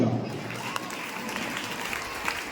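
Applause at a Jacobite Syrian Vacation Bible School closing ceremony, a short steady patter of many hands clapping in a hall, moderately faint and even throughout.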